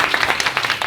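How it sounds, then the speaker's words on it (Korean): Short burst of congregation clapping during a church sermon, a few quick claps forming a brief, moderately loud patter with no voices over it. "박수 한번 쳐주시다"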